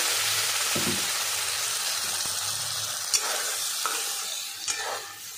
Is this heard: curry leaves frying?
yes